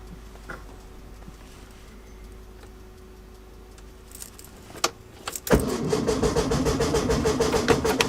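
A 1966 VW Beetle engine that has sat for five years is cranked over, with a few clicks and a brief catch before a loud, rapid rattling chug kicks in close by and keeps going to the end.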